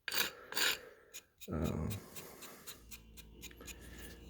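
A hand file rasps along the edges of a soap dish in short, uneven strokes, close and moderately loud, with brief pauses between passes and a lighter scraping toward the end.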